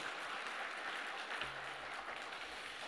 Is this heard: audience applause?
yes